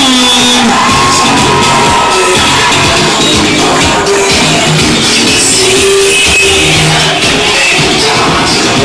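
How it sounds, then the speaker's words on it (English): Wedding guests cheer, whoop and clap at a reception. A loud, dense wall of crowd noise fills the whole stretch with scattered shouts rising above it. "let's give a round of applause for Ron."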